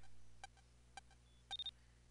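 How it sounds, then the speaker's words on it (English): Electronic beeps from the Mega Man Battle Network 6 video game: three short, sharp tones spaced evenly, then a quick brighter chirp and a rapid burst of beeps, clear against a quiet background hum. "Beep beep beep!"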